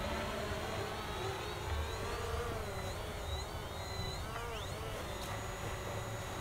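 A Hubsan Zino camera drone in flight gives off a steady, faint, high-pitched propeller whine that rises and falls in pitch over a constant background hiss, with no voices.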